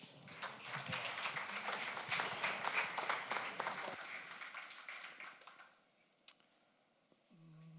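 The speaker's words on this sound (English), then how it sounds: "A round of applause for him." A conference audience applauds to welcome a speaker to the stage: dense clapping that swells over several seconds, then thins out and fades to scattered claps and near silence.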